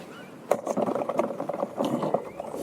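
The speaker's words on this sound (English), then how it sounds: "That's the sound of a crayfish trying to eject itself backwards." An invasive crayfish flips its tail inside a bucket of water, making a quick run of close, splashy slaps and scrapes that carry on through the short moment.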